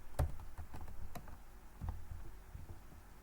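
Keystrokes on a computer keyboard while entering a value into a JavaScript input field: scattered, fairly quiet taps with irregular rhythm, close by and without talk.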